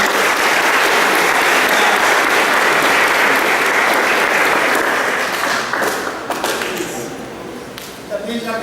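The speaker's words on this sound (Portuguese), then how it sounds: "essas pessoas que foram para lá merecem uma salva de palmas" A church congregation in a parish gives loud, dense applause that holds steady and then tapers off after several seconds, leaving scattered claps and murmured voices at the close.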